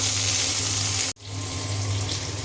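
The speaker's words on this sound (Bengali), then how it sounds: "তেল গরম হয়ে গিয়েছে, আমি এখন পেঁয়াজ দিয়ে দেব।" Onions dropped into hot oil in a home kitchen pan, a loud steady sizzle that cuts out briefly and then resumes just as strong, close by, with no talk.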